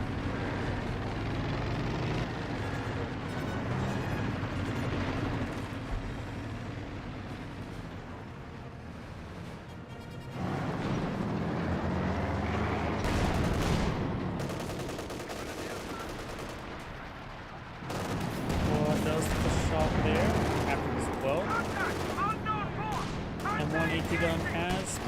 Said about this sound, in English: Gun has been firing away.